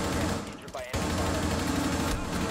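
Rapid automatic gunfire rattles in the video game T-Hunt, a dense continuous burst with a short break, loud and close under a player's speech.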